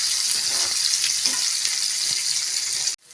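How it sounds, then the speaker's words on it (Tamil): Sliced onion and green chili sizzle hard in oil with popped mustard and cumin seeds, a dense loud frying hiss with stirring scrapes that cuts off abruptly near the end. "கடுகு சீரகம் பொரிஞ்சதும் நீல வாக்கில் கட் பண்ண ஒரு வெங்காயம், ஒரு பச்சை மிளகாய் சேர்த்துக்கலாங்க"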